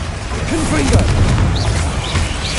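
A Confringo spell explosion in Hogwarts Legacy, a loud close boom with rumbling blast noise spread over a couple of seconds, with a voice heard amid the clamor.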